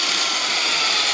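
Angle grinder fitted with a metal cutoff wheel cutting stainless steel for a food truck lift gate, a steady loud harsh whine that fills the whole short clip with no pauses.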